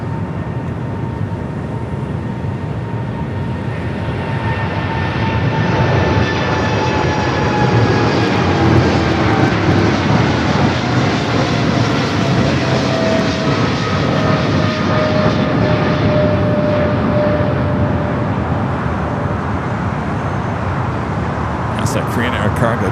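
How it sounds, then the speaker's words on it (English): A Boeing 777 cargo freighter roars past at Los Angeles International Airport, a loud sustained jet rumble with a whining engine tone that slowly falls in pitch as it passes, steady throughout with no words spoken. "Cargo 777 freighter."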